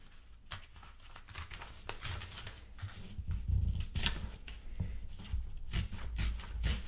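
Folded origami paper is cut away with scissors, a close series of crisp snips and papery crinkles and rustles, irregular and fairly quiet, with no talk.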